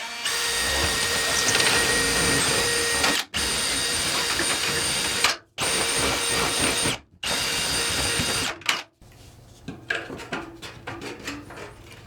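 A power drill runs during bathroom supply plumbing work, close and loud, in four long bursts separated by brief stops, then gives way to quieter clattering and handling noises.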